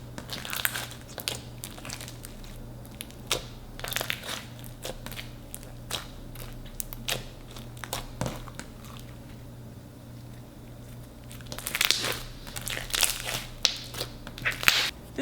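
Thick, clicky red velvet scented slime squished and pressed by hand, giving soft irregular crackles and pops up close, quiet overall with a busier burst of clicks near the end.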